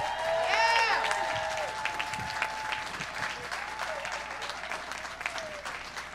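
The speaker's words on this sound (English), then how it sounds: "I think I would love to hear another round of applause for all three," A crowd applauds for three competitors at a tiki cocktail bartending competition, a brisk burst of clapping under a short whistle-like tone, thinning out toward the end.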